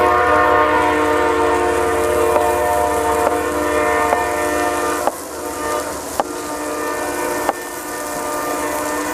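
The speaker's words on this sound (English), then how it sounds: "There goes that train, and you're gonna hear them tracks" A passing train sounds a long, loud horn chord outdoors, with the steady rumble of the train rolling along the tracks underneath and a few sharp clanks from the rails.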